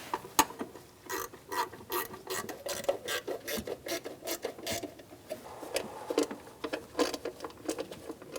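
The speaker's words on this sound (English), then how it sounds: "We're going to go around and snug down all of our bolts." Ratchet snugging valve cover bolts on a 2010-2014 Subaru Outback, making quick, close clicking strokes in a steady, slightly irregular rhythm throughout, with light metallic rubbing and no talking.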